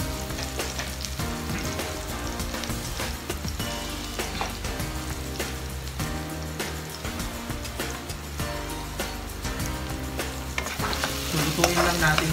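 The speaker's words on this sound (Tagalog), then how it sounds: "lutuin lang natin, guys, yung ating bawang and chili" Garlic and chili frying in a pan for Thai pork basil, a continuous close sizzle with a spatula scraping and stirring throughout, growing slightly louder toward the end, with no talking.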